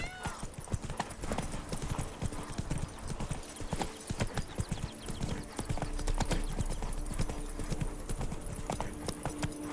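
Horse hooves gallop in a video game, a rapid, steady clip-clop rhythm that carries on close and loud throughout, with a faint voice and a sustained background tone.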